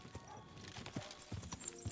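Horse hooves clip-clop at a trot in Kingdom Come Deliverance 2, a steady run of soft, fairly close hoofbeats over low background ambience.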